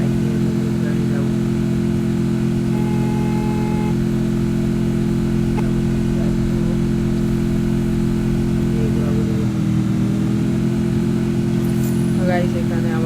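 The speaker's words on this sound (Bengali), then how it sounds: "বাইক নিয়ে বাইক নিয়ে আমি যাবো।" A motorcycle engine in the Free Fire mobile game drones as a loud, steady, unbroken idle hum for the whole stretch, with only slight wavering in pitch.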